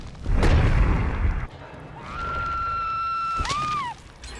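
A flashbang detonates in a multiplayer video game with a loud burst, followed by a sustained high ringing tone that bends and fades away.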